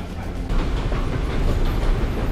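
A London Underground metro train rumbles loudly and close by, a continuous heavy roar with rattling clatter from the cars and no voices.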